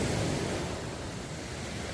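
Surf breaks steadily on an empty beach in Prachuap Khiri Khan, Thailand, a broad, continuous wash of waves with a slight wind rush, fairly loud and close, with no voices.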